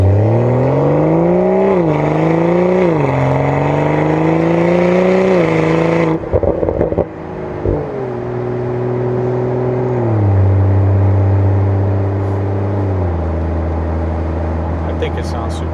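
BMW X3 M40i exhaust revving hard, rising and falling in repeated climbs before dropping to a steadier drone, loud and close, with a slight exhaust vibration.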